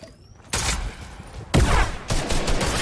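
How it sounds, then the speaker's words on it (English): Gunfire in a Fortnite arena trios match: three sharp, loud bursts of shots, each with a short ringing tail, at roughly one-second intervals. "I just got sniped, bro."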